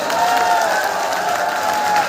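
A crowd at a community political rally in Tikamgarh, Madhya Pradesh, applauds and cheers, a steady wash of clapping that holds at even strength throughout.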